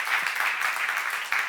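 Congregation at a church seminar clapping together in a steady, dense wash of applause lasting the whole moment, moderately loud and without speech over it.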